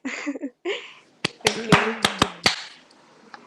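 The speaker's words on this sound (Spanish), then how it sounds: "un aplauso para Karen" A few scattered, sharp hand claps from a small audience at a math-magic outreach talk, following brief speech and fading after about a second.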